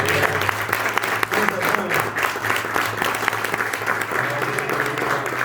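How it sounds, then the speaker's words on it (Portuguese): Church congregation clapping together in steady, dense applause during a Sunday worship service, filling the room without a break and carrying on for several seconds at a fairly loud level. "Será que você pode aplaudir o Senhor mais uma vez?"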